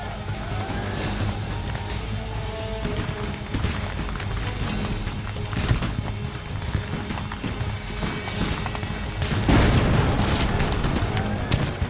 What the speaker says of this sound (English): Barksdale and Lloyd advance 600 yards through a barrage of enemy fire